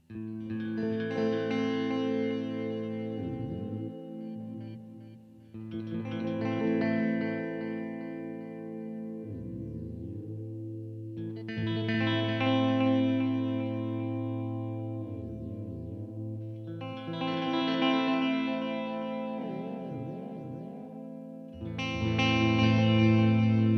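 Sustained guitar chords through a Matthews Effects The Surgeon delay pedal ring out in long phrases, smeared with repeating echoes and swirling modulation that trail between strums; no voices.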